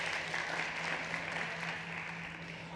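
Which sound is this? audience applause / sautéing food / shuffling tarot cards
audience applause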